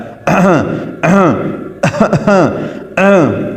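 A man deliberately clears his throat several times in a row, short guttural rasps separated by brief pauses, close and loud, imitating the sound.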